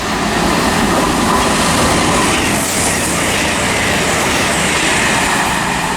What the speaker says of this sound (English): another Virgin Voyager now for Birmingham New Street is coming through